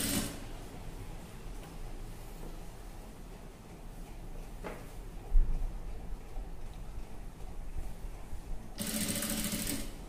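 A sewing machine stitches piping onto a dress neckline, its motor running slowly with a steady close whir, broken by a brief clack partway and a louder burst of faster stitching near the end.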